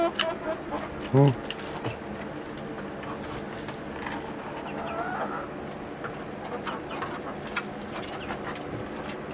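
Chickens cluck and call in a backyard flock, with soft intermittent bird sounds over steady outdoor background noise and a brief murmured voice.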